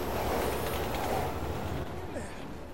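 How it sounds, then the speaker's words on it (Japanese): Subway train rumbling in a Resident Evil 6 game level, a steady loud broadband roar that fades slightly toward the end, with no clear voices over it. "電車、 これ電車来る。"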